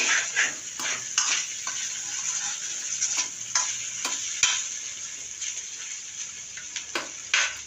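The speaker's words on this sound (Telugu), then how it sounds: "మాడిపోకూడదండి కింద మాడిపోకూడదు అందుకే అప్పుడప్పుడు కలుపుతూ ఉండాలన్నమాట" Sliced potato fry sizzles steadily in a pan while a spoon stirs it, bringing repeated scraping clicks and clinks against the metal over a bright, constant hiss.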